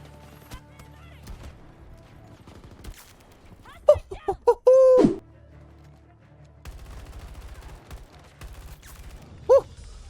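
Rapid bursts of M5A3 rifle fire in the video game Battlefield 2042 come in a tight cluster of sharp cracks, with a sustained loud stretch midway and a single shot near the end, over quieter in-game clatter.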